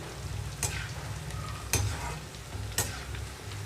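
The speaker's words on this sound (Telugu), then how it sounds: "మీడియం ఫ్లేమ్లో ఉంచి వేయించుకుంటున్నాను ఇక్కడ మధ్య మధ్యలో కదిలిస్తూ" Salted bitter gourd pieces fry on a medium flame with a continuous sizzle, broken by three sharp stirring scrapes spaced about a second apart.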